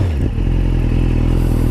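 A 2014 BMW S1000RR HP4 motorcycle engine rumbles steadily and loudly while riding in sport mode, with a low throbbing tone and some rattling.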